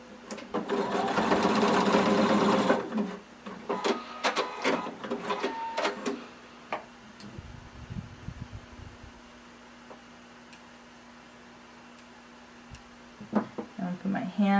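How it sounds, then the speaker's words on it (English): A sewing machine stitches through several fabric layers and elastic in loud bursts, then pauses and starts again briefly near the end, with a voice talking during the gaps. "I'm going to stitch down, stitching through all layers to make sure I catch that elastic"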